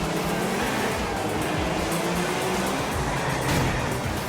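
Steady, dense roar of a car speeding in a street race in Grand Theft Auto 4, a continuous broadband engine and road rush with no breaks.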